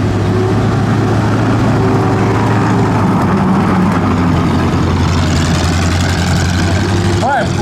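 M18 Hellcat armored vehicle idling and running steadily with a deep, continuous low rumble throughout, loud and close, with a brief higher whine near the end.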